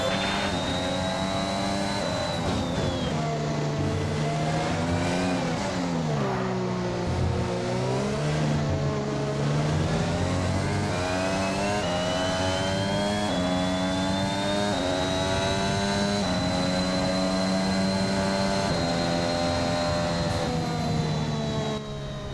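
Formula 1 race car engine in a video game's career mode, a loud continuous high-pitched whine that climbs and dips through gear changes and corners, with no talk over it.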